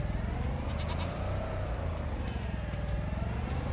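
Sheep bleat in the farming video game Farming Simulator 25, a wavering call over a steady low engine-like drone, with no talk.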